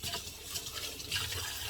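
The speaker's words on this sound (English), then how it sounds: "try to turn the water off each and every time I wash dishes" Tap water runs steadily from a faucet while dishes are washed by hand at night, a continuous close hiss and splash of flowing water with no voices.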